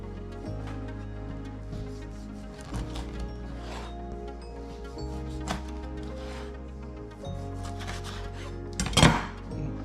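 A knife slices through a rested crispy duck on a cutting board, giving a few soft scrapes and clicks against the wood, ending in a sharper clink near the end, with no talk.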